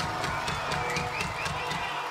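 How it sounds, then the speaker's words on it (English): Concert crowd at a rock show applauding and cheering steadily, a dense wash of clapping with scattered whoops, fairly close and loud, with no music playing. "Give yourselves a round of applause"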